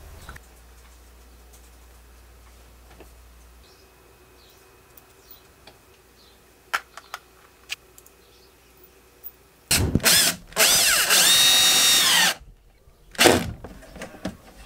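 A power drill driving a fastener at the top nut while preparing shou sugi ban decking, two loud close bursts of whining motor, the longer one about two and a half seconds, followed by a brief third burst, amid quiet workshop clicks.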